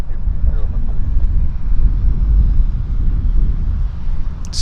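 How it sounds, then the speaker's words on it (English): A WestJet Q400 turboprop airliner approaches at Vancouver Airport, heard as a loud, steady low rumble mixed with heavy wind buffeting on the microphone for the whole stretch. "now we've got our Q400 coming our way"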